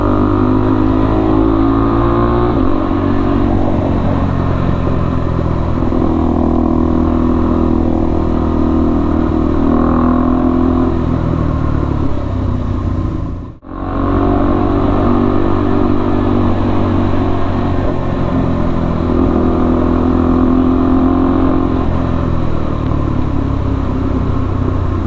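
A 2022 KTM RC 390 motorcycle with a cat-delete exhaust runs loud and close, its engine revving in a steady, continuous drone that drops out for a moment partway through and then resumes.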